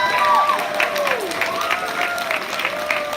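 A crowd gives steady applause for a teacher at a school Black History program, a dense even wash of clapping with cheering voices and talk over it.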